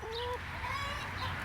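Backyard chickens cluck and trill softly in short overlapping calls near a compost system, close and continuous over a brief low outdoor hum.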